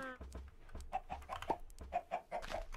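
Chickens clucking in Minecraft, a run of short repeated game clucks in a quick uneven rhythm, fairly faint.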